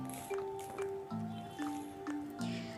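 A tablespoon of barbecue sauce squelches and drips into whisked sour yogurt marinade for stovetop chicken barbecue, giving several short, close wet squishes in a steady rhythm, with no talking.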